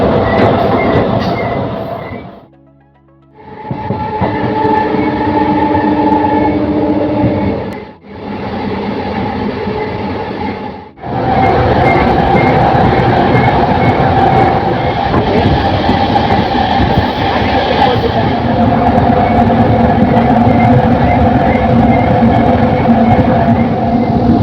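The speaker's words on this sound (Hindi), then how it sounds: "ट्रेन हमारी अराइवल हो रही है सेमरा रेलवे स्टेशन।" A MEMU local train runs on the Raxaul to Motihari line, a loud continuous rumble of wheels and carriage with brief dips and cuts, the steady rolling noise heard from on board.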